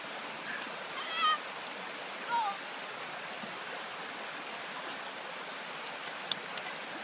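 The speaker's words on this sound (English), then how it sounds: "This is the Aroy Seco River." The Arroyo Seco River flows in a steady, soft rush of water heard alone, with a couple of faint bird chirps and a small tap near the end.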